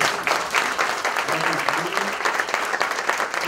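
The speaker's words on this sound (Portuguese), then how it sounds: "Uma salva de palmas, por favor." Audience applause at a book launch event in São Paulo, a steady wash of clapping hands from a crowd lasting a few seconds, with a voice faintly audible underneath.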